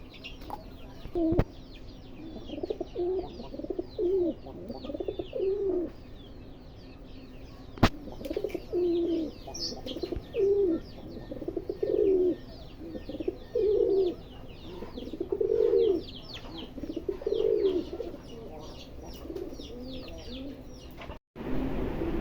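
Pigeons at a pigeon farm coo in repeated rhythmic bursts, several birds overlapping at moderate distance, with faint background bird calls and a couple of sharp clicks.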